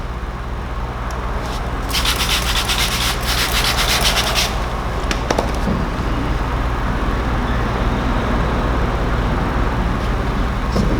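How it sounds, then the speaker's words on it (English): A squeegee is worked over paint protection film on a car headlight, producing a continuous, fairly loud rubbing scrape with a denser stretch of friction noise early on. "So that's what you're going to want to do when you're squeegeeing it."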